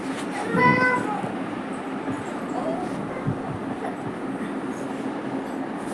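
A cat gives a single clear meow near the start, then a steady rumbling background noise continues for several seconds.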